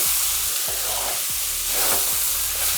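Ginger and jaggery mixture frying in a pan, a steady close sizzle broken by several soft scraping stirs at irregular intervals, with no voices.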